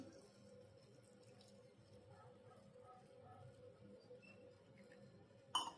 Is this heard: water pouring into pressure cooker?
yes